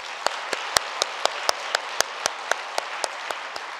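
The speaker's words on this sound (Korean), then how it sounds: "한번 삼일체 하나님께 감사와 찬양의 박수를 올려드리실까요?" A church congregation at a Korean worship service claps in unison, sharp evenly spaced claps about four per second, loud and close, with no talking.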